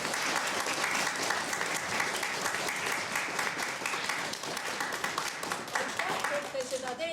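Sustained applause from an audience, dense clapping at a steady level throughout, with no voices standing out.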